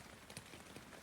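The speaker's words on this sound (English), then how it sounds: "So I shall say good night with you listening to the sound of the rain." Rain comes down steadily on a tent at night outside Bellingham on the Pennine Way, a dense, even patter with a few slightly louder drops and a sharper tap at the very end, close and fairly soft.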